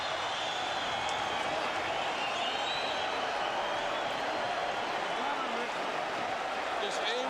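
A boxing match crowd cheers and roars in a continuous, dense wash of noise that holds steady and loud throughout, with no clear individual voices standing out.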